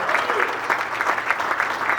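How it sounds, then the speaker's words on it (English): A crowd applauds for John Hackett at a high school baseball hall of fame ceremony, a steady, moderately loud burst of many hands clapping that fills the whole moment. "Give a round of applause for John Hackett."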